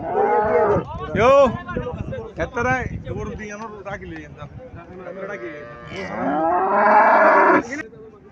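Several loud, drawn-out moos from a Holstein Friesian cow, close by, with people talking in the background between and under the calls.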